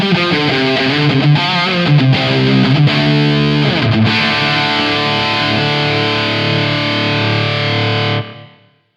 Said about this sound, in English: I activated a spring reverb that is part of the 2 Notes Captor X